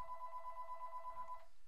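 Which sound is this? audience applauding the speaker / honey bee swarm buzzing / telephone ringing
telephone ringing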